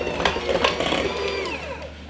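Electric mixer whirring steadily as it beats butter with powdered sugar into icing for a cake, a continuous close motor drone with a slight change in pitch toward the end.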